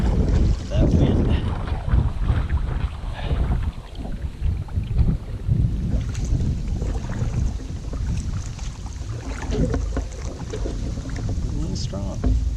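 Strong wind buffets the microphone while a canoe is paddled on a lake, a loud, continuous rumble with water sounds and people talking now and then.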